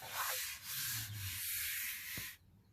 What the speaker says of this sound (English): We've been several hours now sanding, well, 3 or 4 hours sanding